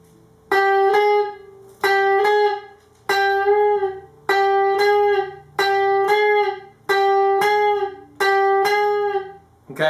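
Electric guitar string bends, repeated about eight times: each note is picked and pushed up in pitch to a target note, then held and left to ring, loud and close with short gaps between attempts.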